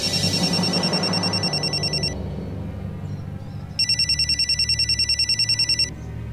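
A telephone bell rings in a fast trilling burst, stops for a moment, then rings again, loud and close over a low background hum.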